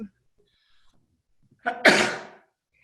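A single loud sneeze from an unmuted participant in an online meeting, with a sharp intake of breath just before it, otherwise near silence.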